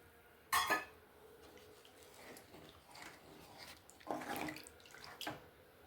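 Tamarind water is poured into a pan of bitter gourd kuzhambu, giving a short splashy gush followed by softer trickles and light clinks of utensils in a quiet kitchen.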